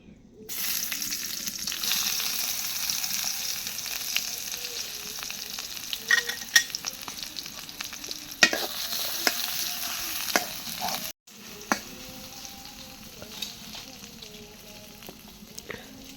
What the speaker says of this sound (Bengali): দিয়ে দিচ্ছে সরিষার তেল, এখন দিয়ে দেবে পেঁয়াজ কুচি